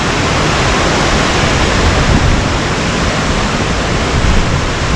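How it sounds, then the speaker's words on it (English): Steady, loud broadband rush of Ketchikan Creek in Alaska close by, continuous and unbroken like a stream running over rocks. "Ketchikan Creek down there."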